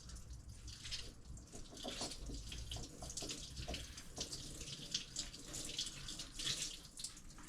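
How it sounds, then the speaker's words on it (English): Running water pours steadily while muskrat fur is rinsed under it, squeezed from the top down; a fairly quiet, continuous splashing with irregular surges, no talk. "The proper way to rinse this is to start at the top and you squeeze down."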